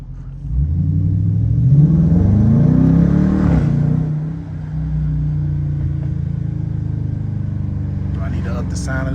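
A 2022 Dodge Challenger R/T Plus engine revs up on a night drive, its deep rumble climbing to a throaty peak, dropping back, then settling into a steady cruising drone, loud and close from inside the car.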